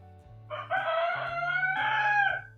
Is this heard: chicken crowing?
yes